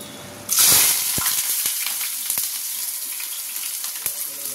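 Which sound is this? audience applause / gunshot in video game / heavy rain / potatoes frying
potatoes frying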